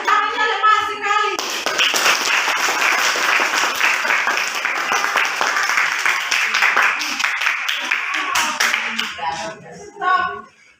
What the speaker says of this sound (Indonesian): Aduh, tepuk tangannya lemah sekali.